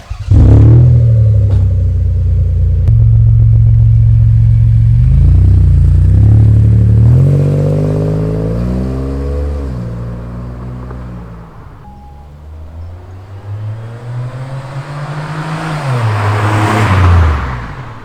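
A rare Lexus ES250 car passes by loud and close, with a rising engine drone through upshifts that fades as it moves off, then a second swell of engine noise near the end; nobody speaks.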